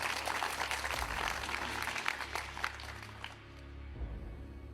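Audience applauding on a quiz show, a dense continuous clapping that fades toward the end, fairly faint.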